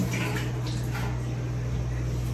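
Steady tap water running in a home kitchen as hands are rinsed clean of sticky palm jaggery, a constant close splash with no talking.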